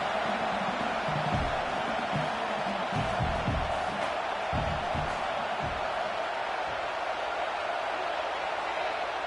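A steady roar from a stadium crowd at a college football game between South Carolina and Tennessee, a dense wash of noise throughout with muffled voices and faint cheers rising within it.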